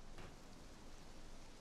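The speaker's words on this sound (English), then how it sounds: "there's rain now, so in the swamp area, most likely there will be rain all the time." Rain falls steadily over the swamp area in the video game Conan Exiles, a soft, continuous, even hiss with no voices.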